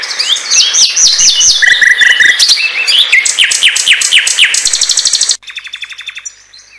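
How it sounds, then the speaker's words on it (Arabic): Several birds chirp and trill sweetly in a dense, continuous chorus of rapid, repeated calls, loud and close, with a quieter set of chirps after a brief drop near the end. "غردت الطيور تغريدا عذبا."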